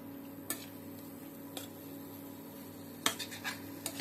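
Dates and mango leather stirred in a cooking pan for a sweet chutney, heard as a few faint, scattered scrapes and clinks of a utensil against the pan over a low steady background hum.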